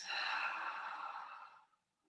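A single long, strong exhale out through the mouth during a deep-breathing exercise, close and breathy, fading out after about a second and a half.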